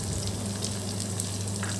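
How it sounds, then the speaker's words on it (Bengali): Ground spices sizzle in hot oil in a pan for chicken biryani, a steady close crackling hiss with no voices, continuous and fairly quiet. "একটু হালকা ভাজা হয়ে যাওয়ার পর এখন আমি ওই গুঁড়া মশলাগুলো দিয়ে দিব"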